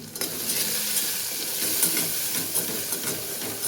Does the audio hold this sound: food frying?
yes